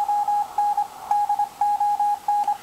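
A radio receiver on a longwire or magnetic loop antenna gives off a steady hiss of static, broken by repeated short electronic tones pulsing in an even rhythm, loud and close.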